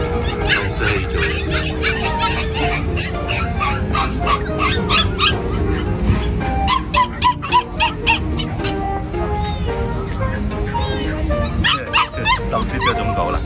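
Village rural dogs at a busy market barking and yipping in short bursts, with some whimpering, under a dense crowd of chatter and talk throughout.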